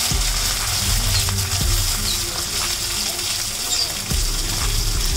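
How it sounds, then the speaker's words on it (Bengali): Chopped tomato and two green chillies drop into hot oil with fried black cumin for a Bengali fish curry, setting off a loud, steady sizzle with a few bursts of stirring and splashing throughout. "এবার আমরা উপর থেকে দিয়ে দিচ্ছি একটা বড় সাইজের কুচিয়ে রাখা টমেটো আর দুটো কাঁচা লঙ্কা।"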